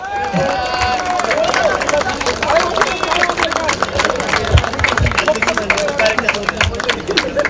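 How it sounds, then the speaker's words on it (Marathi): A crowd claps at a cricket tournament prize ceremony, the applause a dense patter of hands mixed with chatter and a voice over the noise. "टाळ्या वाजवा सर्वांनी जोरात."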